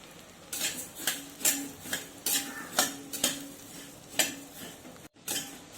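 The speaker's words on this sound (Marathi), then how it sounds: "धने आपल्याला व्यवस्थित तीन चार मिनिट लो फ्लेमवरती भाजून घ्यायचे आहेत" Coriander seeds dry-roast in a pan over a low flame, a utensil scraping and tossing them in regular strokes roughly every half second, each a dry rattling swish over a faint background hiss, with no talking.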